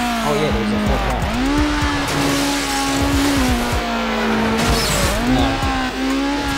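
Engine roar and screeching tires from a Honda Civic drifting in Need for Speed Underground, a steady loud whine that rises and dips through the turns, with continuous tire squeal and no talk over it.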